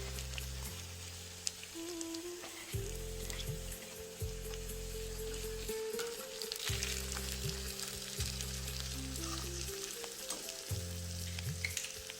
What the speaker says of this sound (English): Now, add the remaining crushed garlic. Also add the remaining salt and stir it well.